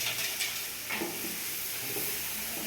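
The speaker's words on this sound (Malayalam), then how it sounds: "ലേശം നേരം ഒന്ന് ഇളക്കി കൊടുക്കാം." Spiced beef and tapioca are turned in a hot pan, a continuous sizzle and soft stirring scrape filling the space, steady and close with no voice.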